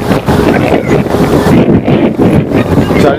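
Strong sea waves surge at Puri beach, a loud churning roar heavily buffeted by wind gusting across the microphone in uneven bursts.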